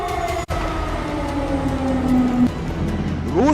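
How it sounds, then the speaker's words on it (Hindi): An air raid siren wailing over a Ukrainian city, a distant droning tone holding steady and then starting to rise again, set against low city rumble. "यूक्रेन के कई शहरों में सायरन लगातार बज रहे हैं"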